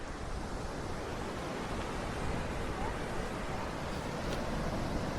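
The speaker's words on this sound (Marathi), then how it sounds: "हे सुंदर समुद्र आहे" Sea waves at Guhagar beach on the Konkan coast wash in as a faint, steady broadband surf hiss, with wind across the microphone and no clear individual breakers.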